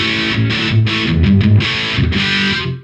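Electric guitar driven through a BAD94 Mini distortion pedal set for a heavy tone, playing loud, thick chugging chords in short bursts before ringing out, with no talking.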